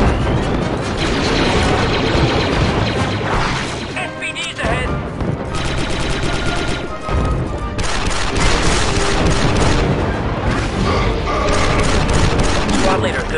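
Blaster gunfire in the Star Wars Republic Commando video game, dense rapid bursts and booming impacts running nearly continuously at close range, with brief lulls and game voices over the battle.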